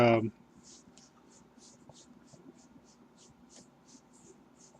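A pencil sketches small partial circles on paper, a quiet run of short, evenly spaced scratchy strokes close to the mic after a brief burst of a voice.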